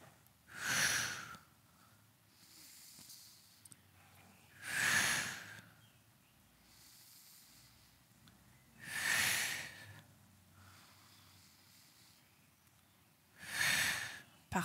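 Slow, deep breaths during a relaxation exercise, four long audible exhales spaced about four seconds apart with softer inhales between, close and breathy, no speech over them.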